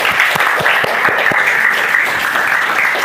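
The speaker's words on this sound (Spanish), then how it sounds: "Un aplauso." An audience applauds after a talk on suffering, hell, sin and happiness, with loud sustained clapping filling the whole stretch and a few sharper individual claps standing out near the start.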